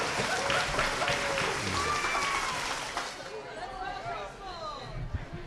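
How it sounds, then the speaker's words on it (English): Audience applause for Ken Workman at a City Hall Indigenous Peoples' Day celebration, a dense steady clatter of many hands that thins toward the end, mixed with crowd murmur and some voices. "Can we give one more round of applause for Ken Workman?"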